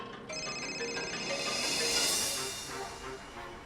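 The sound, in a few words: telephone ringing on a call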